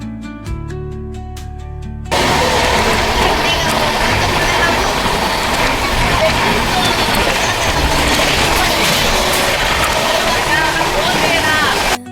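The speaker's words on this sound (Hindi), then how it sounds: "ट्रेन 18 मिनट देरी से 12:19 पे बिलपुर रेलवे स्टेशन पर पहुँची है" The Triveni Express pulls into Bilpur railway station, a loud, steady roar of wheels and carriages rushing past close by after a short tonal horn-like opening, continuing without a break.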